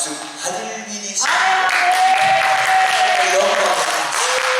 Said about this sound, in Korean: 박수를 많이 쳐야 박수 하늘 일이 있습니다.